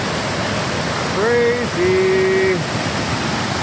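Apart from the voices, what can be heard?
heavy rain rushing water at a waterfall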